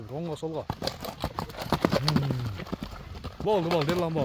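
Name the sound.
horse named Tyson, hooves clip-clopping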